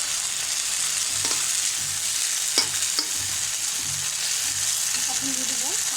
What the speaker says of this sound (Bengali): সসটাকে গাজরের সাথে ভালোভাবে মিশিয়ে নেব। আর এই কাজটা কিন্তু হাই হিটে রেখে করতে হবে